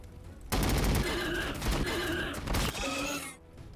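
Gunfire from the Warhammer 40k Battlesector video game erupts in loud, dense rapid volleys that roar for several seconds before cutting off abruptly.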